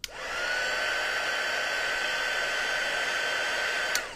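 A heat tool blows hot air onto a junk journal cover, a steady loud whooshing hiss that holds evenly for about four seconds with a brief click at the start and end.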